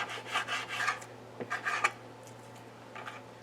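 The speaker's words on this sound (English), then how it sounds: "So you just take your knife and just trim around it." A knife trimming fat from raw pork chops, giving a series of soft scraping and rasping strokes in short bursts, close and fairly quiet, over a faint steady hum.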